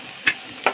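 Vegetables frying with turmeric in a pan are stirred, giving two brief scraping bursts over a faint sizzle.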